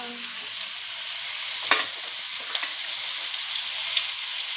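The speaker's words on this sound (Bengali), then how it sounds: "চলো আজকে তো বেশ আলু ভাজা।" Potatoes fry in hot oil in a pan, a loud, close, constant sizzle broken by a few sharp scrapes and knocks as they are stirred.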